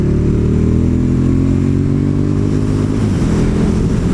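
KTM Super Duke 1290 motorcycle riding with a slipper clutch: a loud, steady engine drone with harmonic tones that dip and shift around each smooth gear change, close and continuous without talk.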